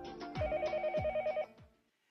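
A telephone rings in a staged comedy sketch: a repeated electronic ringtone in three quick bursts of chirping pulses, clear and fairly close, then it stops and fades into quiet.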